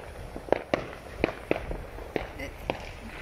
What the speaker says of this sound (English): That drone is getting some serious fireworks show.